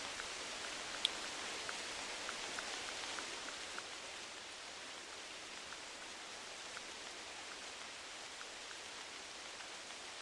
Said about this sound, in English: Oh my god, look at this rain.